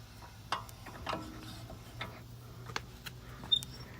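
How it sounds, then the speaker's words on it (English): Already-loosened lug nuts are twisted off a car wheel by hand, making faint, sparse metallic ticks and clicks at irregular intervals against a quiet background. "Let's go ahead and get our already loosened lug nuts and twist this thing off"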